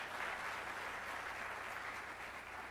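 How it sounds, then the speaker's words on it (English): An audience at a spring closing meeting claps for an absent honoree, a dense, even applause that holds steady and fades slightly toward the end. "we can applaud for her"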